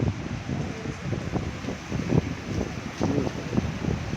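Strong storm wind during heavy rain in Saudi Arabia buffets the microphone, a low rumbling roar with irregular gusts that swell and fade, heard alone with no talk.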